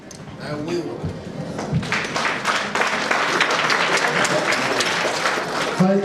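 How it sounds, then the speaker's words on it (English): Wedding guests at a ceremony in Rouen, France clap together in a dense, lively burst that builds and stays strong, with voices and cheers audible beneath the applause. "Thank you for the clap."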